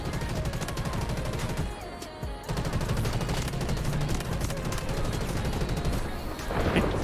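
Rapid gunfire from a fancy gun in a fast-paced modern first-person shooter game rattles in dense, continuous bursts. It pauses briefly about two seconds in, then resumes, loud and up close.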